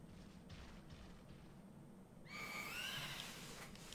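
A horse whinnies in Pokémon Sword, a faint high wavering neigh rising over quiet background game sounds after a calmer stretch.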